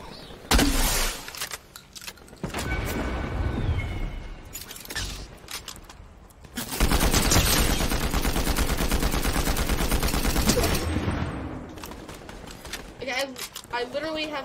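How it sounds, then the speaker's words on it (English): Fortnite gunfire crackles in bursts of rapid shots, loud and close at times, alongside game effects while players talk over it. "Who's shooting it?"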